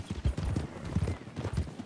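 Horse hooves clip-clopping in the video game Red Dead Redemption, with a quick, even rhythm of hollow thuds repeating steadily at moderate volume.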